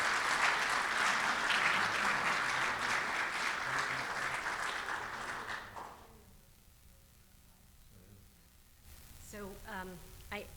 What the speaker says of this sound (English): One more round of applause for Lieutenant General Laura Potter.